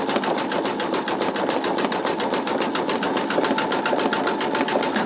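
An embroidery machine stitches out an in-the-hoop wallet, its needle running in a fast, steady, even rhythm that stays loud and close without a break, with no voices over it.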